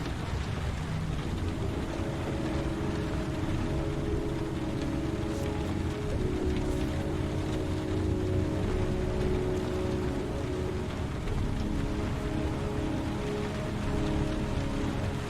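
Steady heavy rainfall in the video game Heavy Rain, a dense continuous patter on surfaces that stays constant throughout with no speech.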